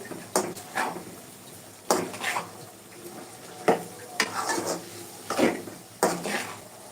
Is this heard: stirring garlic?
yes